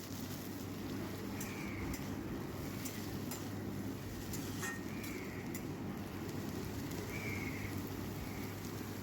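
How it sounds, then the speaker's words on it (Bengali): Green beans (borboti) fry in a pan with oil, a steady close crackling sizzle like light rain, with occasional louder pops and no talking. "বরবটিগুলো কিন্তু আমি ভালো করে ভেজে নেব।"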